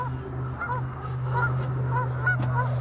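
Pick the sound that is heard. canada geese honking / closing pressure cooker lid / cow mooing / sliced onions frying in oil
canada geese honking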